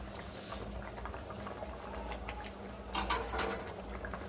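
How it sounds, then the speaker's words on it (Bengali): Dal bhuna simmers on a clay stove, with soft, steady bubbling and patter at low volume and a brief louder spatter partway through. "এখন আমি ডাল ভুনা করতেছি।"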